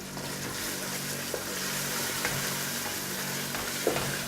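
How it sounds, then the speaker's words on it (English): A masala fish curry is stirred in a pot, giving a steady close simmering sizzle with a few faint scrapes and clinks and no talking. "That should be fine if you give it a good stir."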